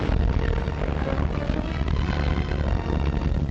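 Military propeller aircraft from the 1944 Provence landing flying overhead, a loud, steady droning engine roar that fills the whole stretch without letting up.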